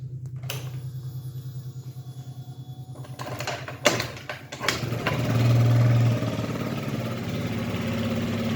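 A Yamaha Jog 36 scooter engine runs at a steady, rapid idle, close and loud, with a few clunks and a brief rise in revs partway through.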